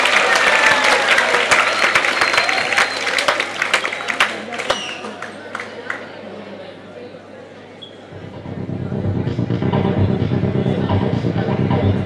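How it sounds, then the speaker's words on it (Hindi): An audience at a World Tourism Day celebration claps to cheer on a performer before his act. Dense applause starts loud, fades toward the middle, then swells up again near the end, with some voices mixed in. "आप एक बार तो उनका हौसला अफजाई अपनी तालियों के साथ कर सकते हैं"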